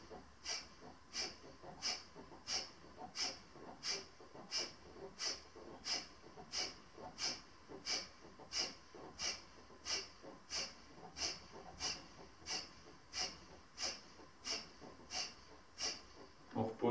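Rhythmic breathing during standing yoga kriya postures: around twenty-six steady, evenly spaced breaths, quiet and close, with no talking.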